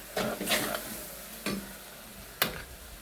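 A spoon scrapes and stirs food frying in a pan after two spoons of colouring are added, the sizzle steady underneath and several sharp scraping strokes standing out near and loud, with no talk.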